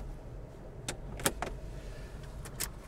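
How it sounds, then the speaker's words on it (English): A 1975 Oldsmobile Delta 88 Royale's trunk releasing from a remote glove-box switch: a couple of short mechanical clunks and clicks against a low idle-like hum, fairly close. "I'm going to pop the trunk. This car does have a remote trunk release"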